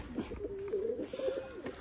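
A high-flying pigeon from Khulna gives a soft, low cooing call close at hand, one warbling phrase rising and falling, with no talk over it.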